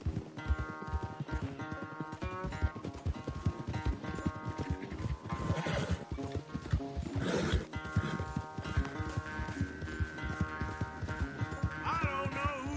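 Rapid clip-clop of a galloping horse racing in Red Dead Redemption 2, a steady hoof rhythm running the whole way under a loud musical score, with a brief whinny near the middle.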